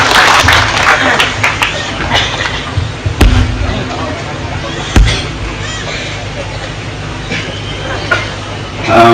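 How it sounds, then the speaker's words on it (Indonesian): An audience at a religious gathering (pengajian) applauding in a large hall: dense, loud clapping with scattered sharp claps and thumps, continuing throughout and fading slightly toward the end. "Sekali lagi tepuk tangan"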